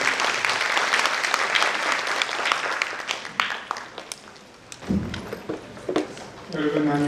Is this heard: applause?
yes